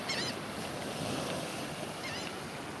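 Ocean waves wash onto a beach as a steady, broad rushing roar mixed with wind buffeting the microphone, with a couple of faint high chirps rising above the surf.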